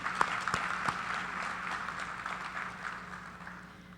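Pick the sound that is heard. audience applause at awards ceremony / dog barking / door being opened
audience applause at awards ceremony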